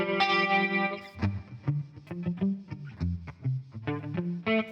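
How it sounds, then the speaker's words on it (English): An electric guitar played through a Matchless Laurel Canyon amp capture with a chorus effect and room reverb rings out a sustained chord, then a run of picked single notes and short phrases, shimmering and clear with no talking. "So this is the chorus effect."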